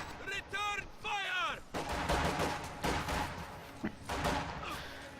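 Booming cannon shots from an infantry support gun in a real-time strategy game, heavy repeated blasts amid battlefield noise, with a caster's excited voice talking over them at first.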